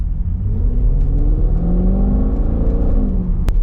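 A 750bhp Audi RS6 tuned by ABT with an Akrapovic exhaust accelerates hard, its deep booming engine note climbing steadily through the revs, loud and close, with a sharp crack near the end.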